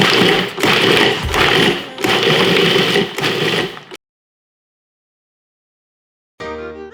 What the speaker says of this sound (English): Put the lid back on your food processor. And you're gonna wanna pulse this a few times until it's like pretty coarse.